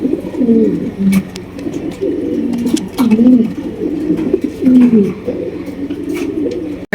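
Fancy racer pigeons cooing close by, with repeated rolling coos overlapping in a steady, busy chorus that runs throughout.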